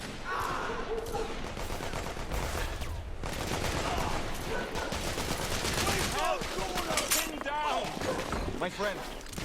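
Gunfire from a firefight in The Order: 1886, rapid overlapping shots and bursts with impacts and shattering, loud and continuous, while characters shout over the fighting.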